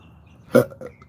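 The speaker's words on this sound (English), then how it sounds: "I'll take my burps." A single short burp rises sharply out of a quiet room and fades within a moment, followed by a faint trailing throat sound.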